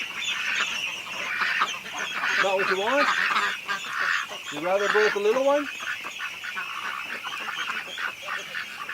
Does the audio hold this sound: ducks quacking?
yes